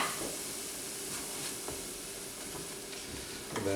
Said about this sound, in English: I'm going to saute this just until the mushrooms release their liquid